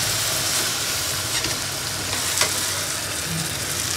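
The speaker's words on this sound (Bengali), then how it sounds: "এখন আমি মাংসটা দিয়ে দিচ্ছি।" Meat goes into a pot of onions frying with a little water for a Bengali mutton curry. A strong, continuous sizzle and hiss fills the clip, close and steady, with a brief clink partway through.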